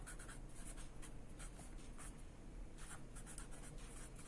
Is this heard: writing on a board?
yes